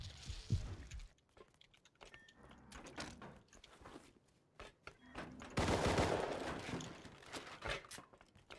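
Pump shotgun blasts in the Rust video game come as scattered sharp shots at uneven intervals, mixed with clattering game noise and a louder burst of gunfire late on.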